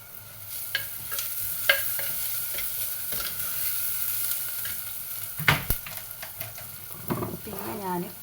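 Spices for a Kerala fish curry, including ground fenugreek, frying and stirred in a pan: continuous sizzle with scattered spoon clinks and scrapes, close, and a voice briefly heard near the end.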